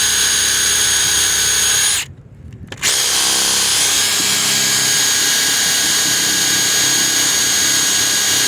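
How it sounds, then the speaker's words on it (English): A power drill whines steadily and loudly while drilling a hole in the bottom of a boat hull, cuts out for a moment, then grinds on again without letup. "I didn't realize how hard it is to drill a hole in the bottom of a boat"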